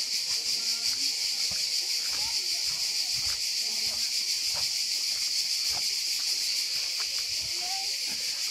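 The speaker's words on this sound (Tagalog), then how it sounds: "Grabe yung tunog ng mga insekto." Dense, continuous high-pitched insect chirping like crickets fills the background on Korčula Island, Croatia, steady throughout, with occasional quiet voices and rustling beneath.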